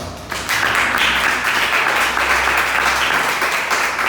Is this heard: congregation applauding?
yes